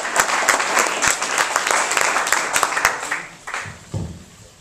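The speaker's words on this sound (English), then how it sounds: "Another round of applause for Dana." Applause from a comedy club audience for a stand-up comedian, a dense burst of clapping that thins out toward the end.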